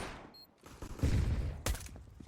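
Rapid pistol gunshots from Counter-Strike: Global Offensive during a Nuke bomb-site round, a quick burst of sharp cracks with a brief break and then another loud shot, over game background noise.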